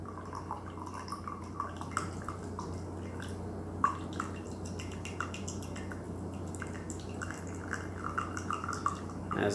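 Gyokuro Kin green tea, a 2019 Den's Tea leaf, draining from a teapot as a steady low trickle with scattered soft drips, faint and close, with no talking.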